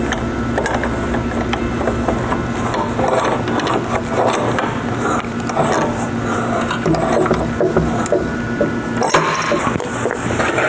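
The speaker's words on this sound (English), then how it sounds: "Let me go to use the pipe wrench." A pipe wrench turning a threaded fitting on a reverse osmosis wash tank and valve kit: continuous close grinding, rasping metal-on-metal friction with mechanical clicks, steady and fairly loud, no voices.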